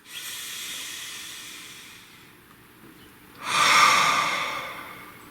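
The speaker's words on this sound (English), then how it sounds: "Nice deep breath." One slow, deep breath, drawn in softly and then let out as a louder, airy rush. It sounds close and clear, with no talking over it.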